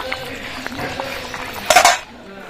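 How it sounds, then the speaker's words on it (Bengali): A metal lid clatters off a pot of potato and cauliflower curry, then a spoon scrapes and clinks against the vessel in a brief loud burst after some quieter kitchen knocks. "এবার খুলে নেবো ডাকনাটা একটু নাড়াচাড়া করে দেবো"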